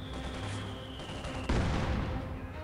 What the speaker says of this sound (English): this is going to mean that my mortar is going to start firing on them